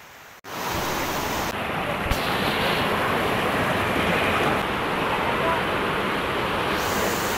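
Cold Yamuna river water flowing straight down from the glacier at Yamunotri, a steady broadband roar of rushing water that sets in after a brief quiet start and holds loud and continuous throughout.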